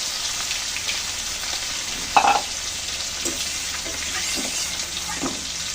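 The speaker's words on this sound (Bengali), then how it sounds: "হালকা করে একটু ভেজে নেবো" Hilsa fish frying lightly in hot oil, a continuous close sizzle with a few soft pops and one brief clatter partway through.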